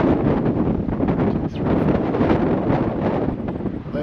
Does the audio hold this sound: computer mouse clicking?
no